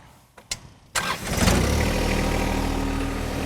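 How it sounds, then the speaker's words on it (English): A John Deere 1025R compact tractor fitted with a 260B backhoe cranks with a few clicks, catches and fires up, then settles into a steady, close diesel idle. "now we're going to start our tractor back up"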